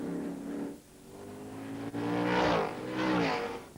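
The number 16 Thetford race car chases a Panoz in a 2002 American Le Mans Series race. Engine roar swells and fades as cars pass and rev, with rising and falling pitch, loud and fairly close, and no talk.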